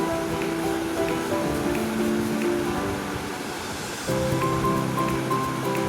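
Onions, green chillies and whole spices frying in a pan for ghee rice, a dense, continuous loud sizzle that drops slightly midway and then swells again, close and steady.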